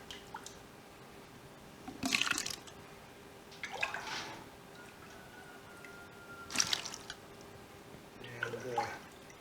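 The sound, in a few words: ladling Gouda cheese curds into a cheesecloth-lined mold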